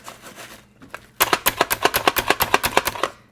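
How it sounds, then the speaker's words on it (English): A handheld chopper mincing onions in a bowl, making a rapid run of about seventeen loud, evenly spaced chopping clacks after a quieter opening with softer rustles and taps. "It's just a handheld chopper."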